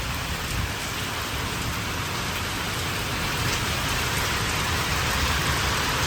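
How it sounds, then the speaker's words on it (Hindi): Heavy rain pours down in a steady, dense hiss during a storm at a house in a power cut, with a faint low rumble of thunder underneath and no talking. "बारिश वाकई जी काफ़ी ज़्यादा तूफान सा चल रहा है यहाँ।"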